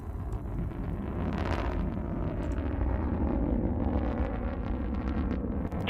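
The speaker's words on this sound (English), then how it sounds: "That beautiful burn on that BE-3 engine, lifting New Shepard towards space" The BE-3 engine of Blue Origin's New Shepard rocket burns at liftoff on the NS-20 launch, a broad, steady rumbling roar heard from a distance, low and continuous with wind-like buffeting.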